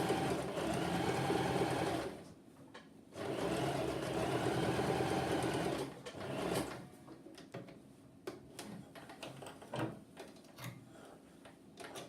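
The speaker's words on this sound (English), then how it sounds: "So now I'm going to sew down the rest of that length, making sure I'm not catching any extra lumps of fabric." A sewing machine stitches fabric for medieval hosen in close, steady whirring bursts, running, pausing briefly, then restarting, before trailing off into quieter handling clicks and shuffles of cloth.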